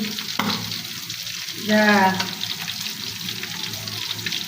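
Fish fries in hot oil with a loud, continuous sizzling hiss up close, and a voice briefly speaks partway through.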